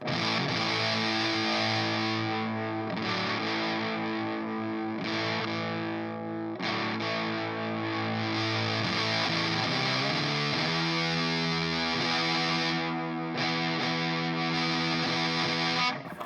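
Electric guitar played through a BOSS TB-2W Tone Bender fuzz pedal gives a steady stream of saturated, buzzing chords and sustained notes, loud and close with no voices, changing chord every couple of seconds.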